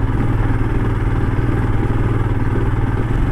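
Steady motorcycle engine droning loudly and continuously while riding an off-road route toward Magod Falls on off-road tyres, with a low rumbling hum and no speech.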